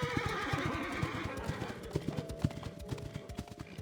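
Horses' hooves clip-clop in a forest, a busy, uneven patter of close thuds with a noisy, chaotic bustle behind them, from the game Love and Deepspace.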